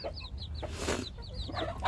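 A Silkie hen clucks in a rural farmyard in the morning, giving a steady run of soft, close clucks with short higher calls over low background noise.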